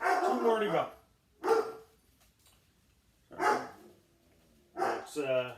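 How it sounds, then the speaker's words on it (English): A dog barks in the background at home in several loud, separate bursts, some yipping and whimpering, interleaved with a voice speaking nearby. "and dog is barking."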